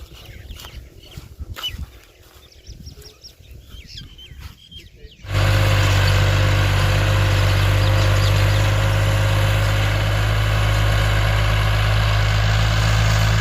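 A tractor engine starts up in a Pakistani village after a few seconds of birds chirping and roosters, then idles loud and close with a steady low throb that fills the rest of the clip.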